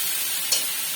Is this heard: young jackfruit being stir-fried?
yes